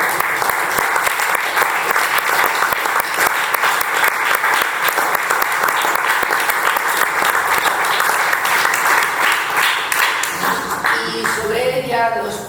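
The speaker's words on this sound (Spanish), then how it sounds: "Para ella le vamos a dar un gran aplauso." Sustained, loud audience applause for a poet at a poetry tribute gathering honoring Cuban poets, steady dense clapping that fills the room before fading as voices emerge near the end.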